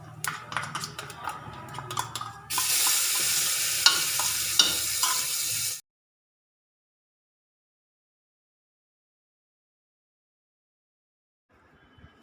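Leftover rice is stirred into hot oil seasoned with cumin, asafoetida and spices, giving a loud, hissing sizzle with scraping stirs. The sizzle cuts off abruptly, followed by a long silence.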